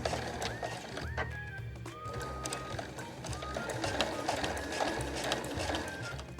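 A sewing machine stitches a handmade body bag, beginning with a backstitch: a fast, steady mechanical whirr and rattle of needle and gears, fairly quiet and continuous without pause.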